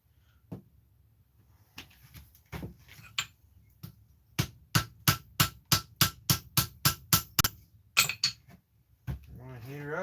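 A hammer taps metal pieces together before a forge weld, giving a quick run of sharp ringing strikes in a steady rhythm after a few scattered knocks, close and clear in a quiet workshop.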